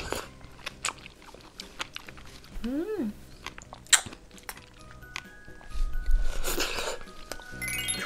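Crunchy chewing and biting of red strawberry rock candy eaten together with coconut, close-up crackling bites spread across the clip with faint background noises.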